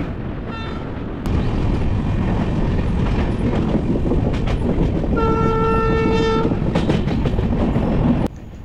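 Indian Railways Sairang Express running at speed, a loud continuous rumble with clickety-clack of the wheels, broken by a sustained blast of the horn toward the end.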